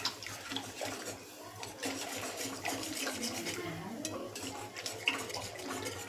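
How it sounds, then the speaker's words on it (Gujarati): Gram flour (besan) batter being whisked in a pot gives quick, rhythmic wet clattering and scraping up close, rising and falling in short bursts for several seconds. "વિસ્કરની મદદથી આપણે હલાવી દેવાનું છે"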